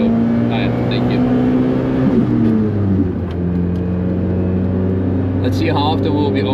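A Daihatsu Copen's engine drones steadily from inside the cabin while lapping the Nürburgring, its pitch dropping at a gear change and then climbing again, with people talking over it at moments.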